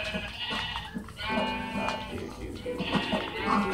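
Sheep bleat in a video game, a few wavering calls mixed with game sounds and a voice talking over them.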